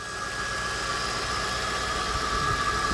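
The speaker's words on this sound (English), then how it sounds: "Purrs like a kitten should." Engine of a 2006 Lincoln Town Car Signature Limited idles steadily with a low, even hum and a faint whine, heard close up with no talk.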